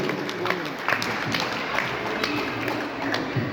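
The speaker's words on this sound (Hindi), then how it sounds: "जोरदार तालियों से बुलाइए" Audience at a Hindi poetry recital applauding to welcome a poet, a dense, steady wash of clapping from a crowd, moderately loud and continuous with scattered sharper claps.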